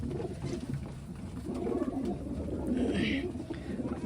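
Giribaj pigeons at the Sonamasjid pigeon farm in Rajshahi coo in a continuous, overlapping low murmur, close and fairly loud, with a brief sharper call partway through.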